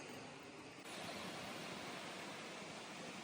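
Plitvice Lakes waterfall roaring as a dense, steady rush of falling water that fills the air evenly, growing slightly louder after the first second, with no talking.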